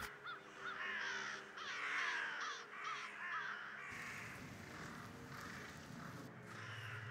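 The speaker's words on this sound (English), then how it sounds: "And those are giant birds" Giant birds in the game Doggone caw in repeated harsh calls, loud and close, with several overlapping cries that give way to a rumbling ambient drone.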